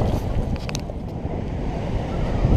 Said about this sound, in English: Crazy sea, no one's out surfing at the moment.